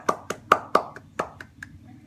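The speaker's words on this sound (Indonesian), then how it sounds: "Kita semua beri tepuk tangan kepada kelompok 3" A classroom of seventh-grade students gives group 3 a few sparse, separate claps, about eight distinct hand strikes in an uneven rhythm over two seconds.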